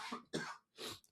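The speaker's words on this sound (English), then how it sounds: "sorry, I had a cough." A person coughs three times in quick succession, close and fairly loud, with short pauses between the bursts and no talking.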